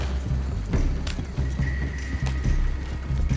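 In Red Dead Redemption 2, a horse's hooves clip-clop in a quick, steady rhythm, close and fairly loud over a low rumbling game ambience.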